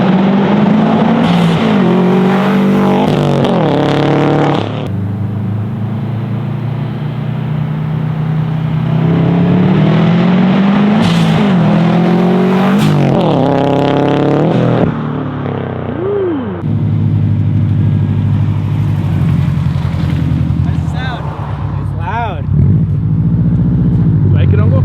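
A Subaru STI engine with a newly fitted blow-off valve revs repeatedly, rising and falling in loud, close sweeps over a steady idle. Voices talk and call out throughout.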